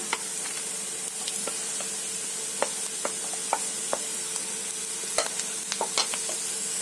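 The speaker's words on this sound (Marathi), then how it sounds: "आता याच्यामध्ये काजू आणि खोबरं टाकते." Cashews and grated coconut sizzle with browned onion in a pan for a chicken changezi, a steady frying hiss broken by scattered sharp clicks and spatula scrapes.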